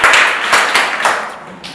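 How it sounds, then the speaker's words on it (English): A brief burst of hand clapping from a small group applauding a child at a school spelling contest, a few quick claps fading out within two seconds. "Clap for him."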